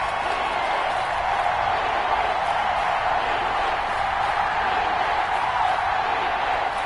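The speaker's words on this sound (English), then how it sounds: "the crowd getting into it as we come up on a big 3rd down" A stadium crowd in a video game football match between the Colts and their opponent roars in a steady, dense wash of cheering before a big third down, continuous and fairly loud.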